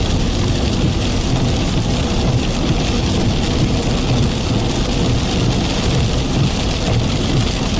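Dense, roaring downpour of heavy rain with a low rumbling undertone like distant thunder, constant and loud throughout, during a Texas/Louisiana storm chase.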